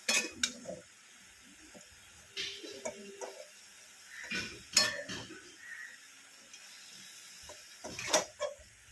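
Food for a dill leaf vegetable dish being mixed in a cooking pot: scattered scraping and clinking of a utensil against metal, close and irregular, with quiet gaps between strokes.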